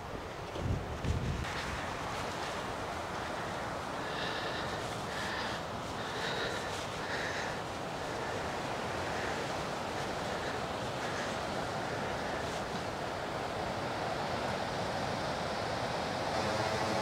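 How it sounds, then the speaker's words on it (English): Strong 25 mph wind buffets and rushes steadily throughout on a golf course, loud and constant, with faint higher tones drifting in partway. "you can also see how windy it is today"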